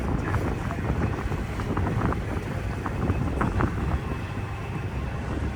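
Strong wind roars and buffets the microphone nonstop over open New York City harbor water, a dense low rumble with no clear voices.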